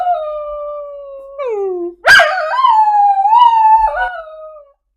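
A dog howls loudly and close, long wavering pitched wails that rise and fall in several drawn-out phrases, alone with no talk, during severe weather and tornado warning coverage in Texas.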